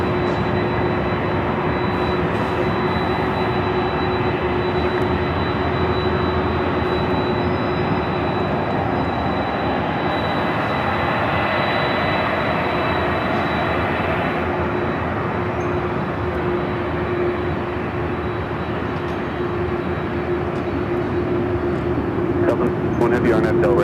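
A Delta airliner takes off from LAX runway 24 left, a steady loud jet roar with a persistent whine, heard from afar under air traffic control radio chatter.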